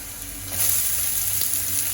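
Cabbage and capsicum sizzle steadily in a hot pan while being fried for chowmein, a continuous close hiss that swells slightly partway through, with no one talking.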